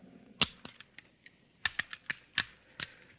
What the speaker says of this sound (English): Now, let's see you put back the firing pin.